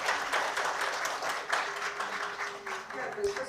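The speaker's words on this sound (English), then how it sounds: "let us thank them with a round of applause" A crowd applauds with rapid, even clapping that holds steady for a few seconds, fairly close, with no talking.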